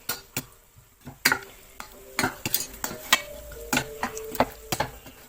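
Hibiscus (jamaica) water in a pot on the stove is stirred after sweetener is added, with repeated sharp clinks of a spoon against the pot over a soft simmering sizzle, close by and rhythmic.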